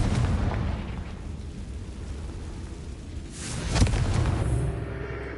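A Confringo blasting spell explodes in Hogwarts Legacy, a deep rumbling blast with a sharp crack, after a low roaring bed of combat noise.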